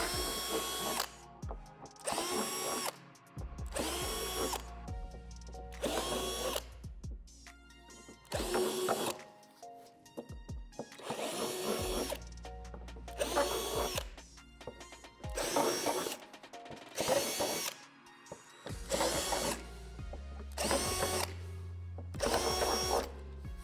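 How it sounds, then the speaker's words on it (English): Power drill with a 1/4 inch bit boring out circular plastic divots on a playset part, about a dozen short whirring bursts separated by brief silences, close and moderately quiet, no speech. "Drill them out with a 1/4" drill bit."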